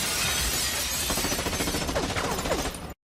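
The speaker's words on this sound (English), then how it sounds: "The one crashing in through the window was Castel, an assassin from Rome." Glass shatters loudly as an assassin crashes in through a window in a film scene, a dense burst of breaking and scattering shards running nearly three seconds before cutting off.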